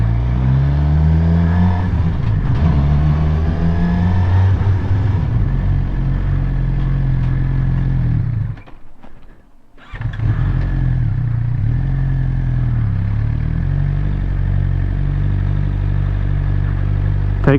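Suzuki GSXR 600 motorcycle engine during stop-and-start practice, a loud close idle and rev with gear clatter, a brief dip to near silence midway, then the engine running steadily again.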